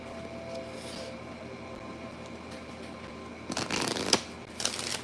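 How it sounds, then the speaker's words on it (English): Tarot cards shuffled at close range during a collective reading, quiet at first, then several brisk riffling bursts near the end of the clip. "Get a good shuffle in real quick."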